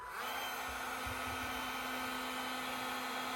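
A Milwaukee M18 compact heat gun blowing hot air, giving a steady loud fan whoosh with a constant motor hum that starts abruptly and runs without a break.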